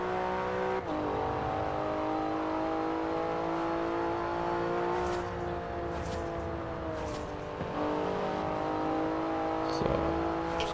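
Car driving at high speed in Forza Horizon 4, a steady engine drone with shifting harmonic tones as the revs rise and fall, continuous and close, with occasional brief clicks.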